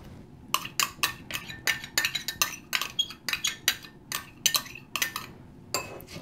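A utensil scrapes a coconut oil mixture around a bowl in a quick run of sharp, clinking scrapes with short gaps between them. The sounds are close and moderately loud, with no talking.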